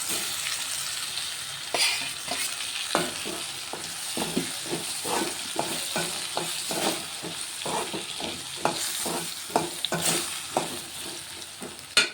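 Potatoes frying in a pan with tomatoes and green chillies, a steady sizzle with repeated spatula scrapes and stirring clacks in an uneven rhythm, close and continuous throughout.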